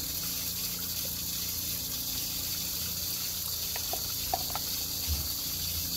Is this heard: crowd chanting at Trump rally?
no